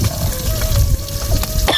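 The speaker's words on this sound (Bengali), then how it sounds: "তুমি যাও, মাছ ভাজছি আমি।" Fish frying in a pan in a rustic cooking setting in the Sundarbans, a loud, steady sizzle and bubbling hiss running continuously up close, with no pause throughout.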